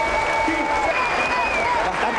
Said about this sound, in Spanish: Ahora sí, aplauso y Sampaio.